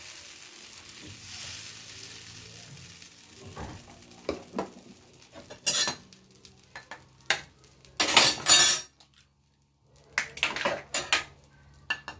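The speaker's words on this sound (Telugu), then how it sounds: "నేనే నా స్వహస్తాలతో దోశ వేసుకుంటున్నాను" Egg dosa cooks on a pan at home, soft intermittent sizzling with scattered stirring scrapes and metallic clinks of a spatula against the pan, fairly quiet with short pauses.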